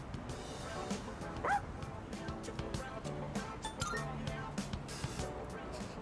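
Angry dog barking in the video game Persona 3 Reload, with repeated sharp barks and yips over busy game music and sound effects while a voice talks.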